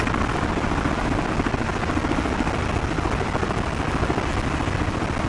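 A Hiller UH-12B helicopter starting up in Microsoft Flight Simulator 2024: a steady rotor thrum and engine roar, loud and unbroken throughout, with no talking.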